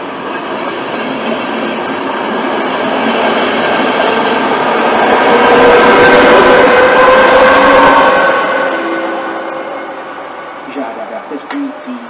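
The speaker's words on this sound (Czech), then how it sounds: "Po koleji číslo 4 projede vlak." A train rumbles loudly through Dobřichovice station on track 4 without stopping, building to a broad roar of wheels and rail noise before fading, with a squeal at the end.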